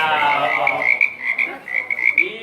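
A person mimics a frog's croak, a sustained raspy throaty call with bright overtones running for about two seconds as part of a group performance at a training session, alone and close.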